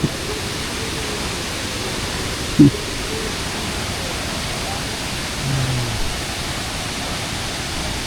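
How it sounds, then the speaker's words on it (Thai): Tat Kuang Si waterfall in Luang Prabang, Laos, flows as a soft, constant rush of falling water, heard from some distance, with a brief knock and a faint murmur partway through. "อยู่นี่น้ำตกไหลตลอดปีนะครับ"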